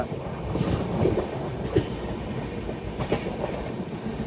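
Dakshin Super Fast Express rolls steadily on its rails, a low continuous rumble with faint periodic clacks of wheels over rail joints, heard from inside the moving train.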